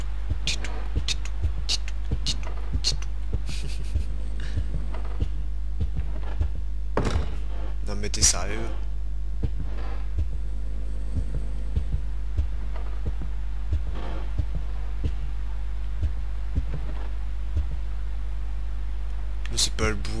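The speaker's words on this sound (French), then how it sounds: "Mais c'est pas le bruit du battement de cœur, c'est mes pas qui font ce bruit." Footsteps in Silent Hills P.T. thud like a slow heartbeat, a soft, irregular series of dull thumps over a steady low hum, with a voice talking briefly partway through.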